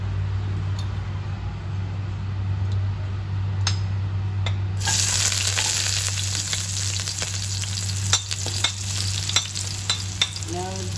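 Ginger sautéing in a little oil in a pan for sinigang: a soft hiss that suddenly swells into a bright, loud sizzle midway, with scattered pops and stirring clatter toward the end, no talk.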